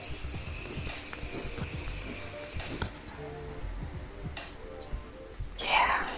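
Continuous setting mist hisses from a spray bottle onto a face in a few soft bursts, close and breathy, between stretches of quiet with faint background sounds.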